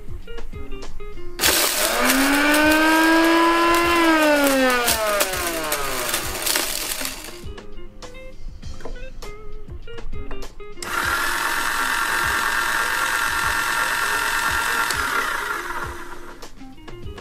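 Two Kalita electric coffee grinders, a Perfect Touch and a Next G, run in turn: a loud whining grind whose pitch rises and falls, a quieter gap, then a steadier, smoother grinding whir, with no talking.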